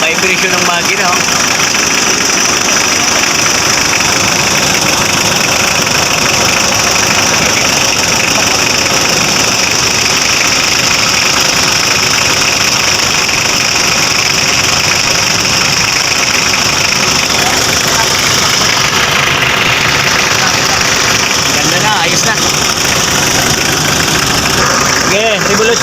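A Mitsubishi L300 FB van engine idles loud and close with a heavy, shaking vibration and a constant rough drone that runs throughout without a break.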